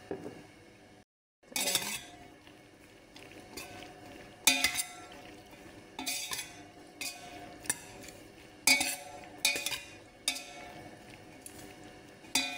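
Boiled macaroni tossed in corn flour in a metal bowl or pan, heard as a series of clinking, scraping utensil strikes and soft stirring rustles, close and intermittent with short pauses between bursts.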